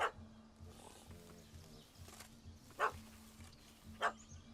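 A dog barking in The Witcher 3 video game, a few short sharp barks spaced apart over a quiet, low ambient backdrop.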